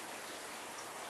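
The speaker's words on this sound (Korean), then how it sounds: "빗방울 소리가 들렸습니다." Steady soft patter of raindrops falling, a continuous broadband hiss with no distinct individual drops, heard alone at low level.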